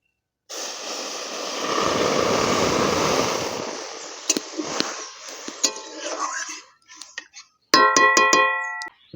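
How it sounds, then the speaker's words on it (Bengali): Water pours into a pan of dry-roasted mung dal, a loud gushing hiss for a few seconds, then fades into a few clinks and knocks and ends with a bright ringing metallic clatter. "মুগ ডাল ভাজা হয়ে গেছে, এবার আমি জল ঢেলে দেব।"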